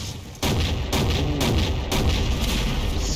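Tank cannon fire in a Garry's Mod battle against giant spiders: loud, booming blasts in a rough, repeating rhythm about every half second to second, set against a constant heavy din of combat.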